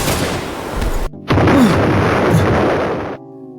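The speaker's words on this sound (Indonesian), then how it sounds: "siapa juga yang bermain ledak-ledakan di saat pagi buta seperti ini?" Explosion in the Roblox Brookhaven game: a loud, full-spectrum blast roars in suddenly after a short gap and sustains for about two seconds before cutting off to quiet game audio.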